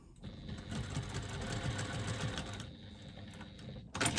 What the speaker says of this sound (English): So I've opened it up. And I'm doing my rows of stitching.